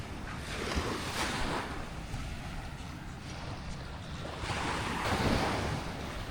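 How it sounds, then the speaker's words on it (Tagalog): Gentle waves of a calm sea wash in and out on a beach in La Union, Philippines, with a soft, steady surf hiss, wind buffeting the microphone, swelling slightly twice with no voices. "Pero dito, mas kalmado nga yung dagat."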